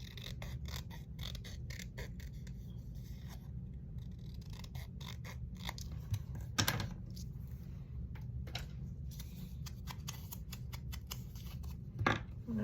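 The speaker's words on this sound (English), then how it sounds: "Just gonna cut this border here." Scissors snip through a paper border for a craft journal, a faint series of crisp, irregular cuts with small rustles between them, close and alone.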